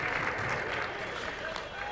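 Crowd applause in a gym at a high school boys' varsity basketball game, a soft, continuous wash of clapping heard from a distance, faint and steady throughout.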